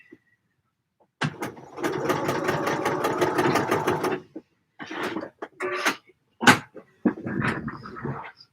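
A sewing machine runs in bursts while stitching seams on a fabric mock-up: one long steady stretch of rapid stitching, then several short runs and stops, close and fairly loud, with no talking.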